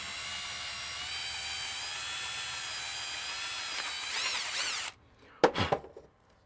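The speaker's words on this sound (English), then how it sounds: "And see how I'm drilling like this?" A power drill whines steadily while drilling into the metal of a Macintosh IIsi power supply, its pitch rising near the end, then cuts off and is followed by a few short rattling clatters up close.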